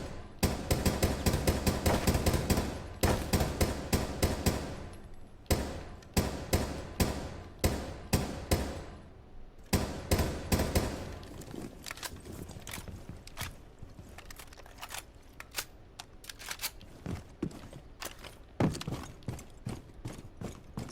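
Gunfire echoes down a hallway in Rainbow Six Siege: sharp, loud bursts of rapid shots crowd the first few seconds, followed by scattered single cracks and short volleys over a steady background.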